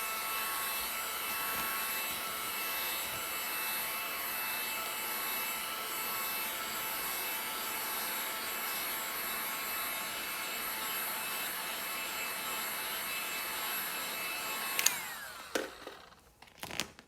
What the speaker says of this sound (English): Maybe I had to bring out the heat gun.